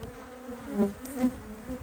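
Agitated honeybees buzz around an open beehive in October, a steady close drone with a couple of louder swells as bees pass near.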